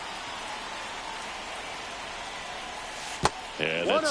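Steady rain hisses over a baseball field in the MLB 25 video game, a dense even wash of drops, broken by a sharp crack and then a commentator's voice.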